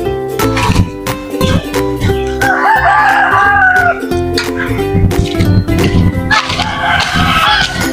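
Native chickens at feeding time cluck and crow close by amid scattered clatter, with dogs barking and someone talking over the flock.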